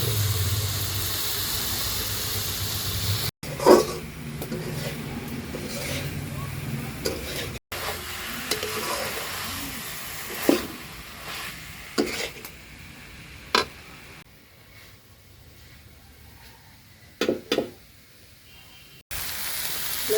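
Kochur loti (taro stolons) fry in a pan with red chili powder as they are stirred, giving a steady hissing sizzle. Occasional scrapes and clanks from the stirring cut through, with a few brief breaks.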